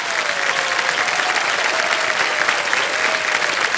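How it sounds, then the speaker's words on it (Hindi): Studio audience on a television quiz game show breaks into loud, sustained applause, a thick even roar of clapping with a faint tonal line beneath it and no talk over it. "तालियां बज जाएं इनके लिए।"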